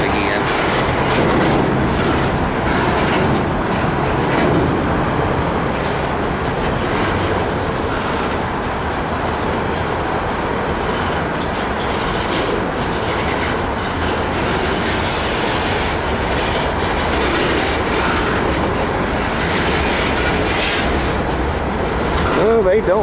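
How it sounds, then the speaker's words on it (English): A Norfolk Southern freight train of empty rock cars rolls slowly past a crossing in Roanoke, with a continuous rumble and wheel clatter that stays loud and close throughout. "They're waiting for this train to cross over and get out of the way."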